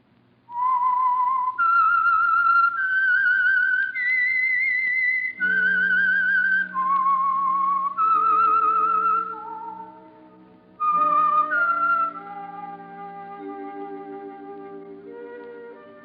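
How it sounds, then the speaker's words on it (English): A lone whistler performs the eerie theme signal of The Whistler, a 1940s radio mystery program. The clear, rising and falling melody runs for about ten seconds, then fades under a soft orchestral backing. "That whistle is your signal for the Signal Oil program, The Whistler."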